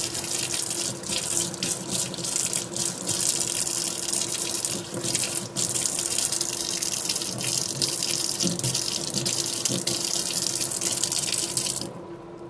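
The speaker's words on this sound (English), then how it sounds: "we're going to turn the tap on and give the outer foil and the main body a quick" Water runs steadily from a tap to rinse the outer foil and main body of a Panasonic electric shaver, a continuous close splashing hiss that cuts off near the end.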